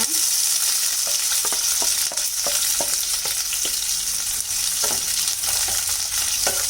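Onion and green chili frying in oil for a kadai mushroom fry, a strong continuous sizzle with a series of spatula taps and scrapes against the pan.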